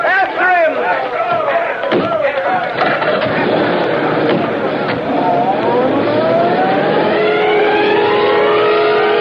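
Police cars peel away in pursuit in an old-time radio drama: engines rev and accelerate while rising, siren-like tones sweep upward, loud and busy throughout, with voices calling out over the commotion.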